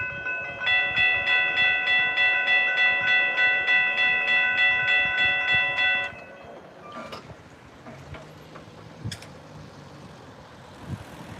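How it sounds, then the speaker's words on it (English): A long passenger train, eight cars with locomotive 115 leading and 121 trailing, rolls past at Stuart with a loud steady rhythmic clatter of wheels for about six seconds, then fades to quieter rumbling with scattered clanks. "There goes train number 6 for today's stream."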